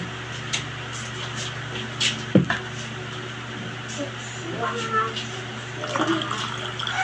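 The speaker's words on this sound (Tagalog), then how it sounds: "Lagyan mo tong tubig." Water runs and splashes steadily into a container over a low background hum, with faint clinks and soft movement noises.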